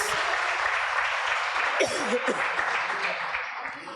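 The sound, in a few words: church congregation applauding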